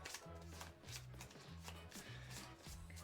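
Playing cards from a board-game deck being shuffled at a table, a rhythmic series of riffling bursts repeating about every half second, close and steady, with a low tonal hum underneath.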